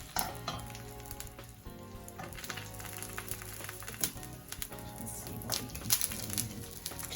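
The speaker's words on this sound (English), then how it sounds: "So now we're going to just toast off our bruschetta slices in a pan." Bruschetta bread slices toasting in a hot pan give a soft, crackly sizzle with scattered pops and light scraping, steady and fairly quiet throughout.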